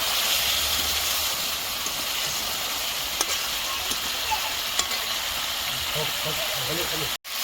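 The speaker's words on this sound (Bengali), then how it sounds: "আমি নাড়িয়ে দেবো।" An egg and tomato curry sizzles steadily in a pan while it is stirred, a constant hissing fry with a few faint scrapes and clinks near the end.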